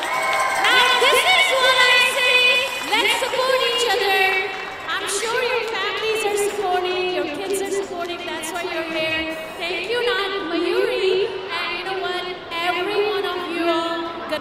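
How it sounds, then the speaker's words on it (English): Crowd at a live performance event cheering and applauding, with whoops and shouts rising over clapping while voices call out loudly throughout. "Give them a big round of applause!"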